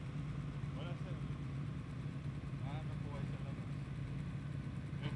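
Motorcycles idling outside a restaurant in Tagaytay, a steady low mid-pitched engine rumble running throughout, with people talking over it.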